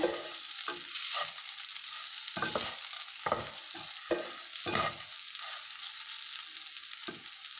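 Rinsed poha being mixed in a pan for lemon poha: a close, steady soft sizzle broken by repeated scraping knocks of a spoon against the pan at irregular intervals, with no talk.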